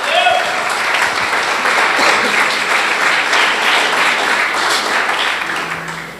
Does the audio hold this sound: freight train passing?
no